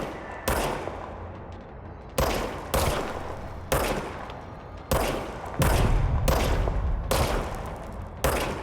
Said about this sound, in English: now I have a gun.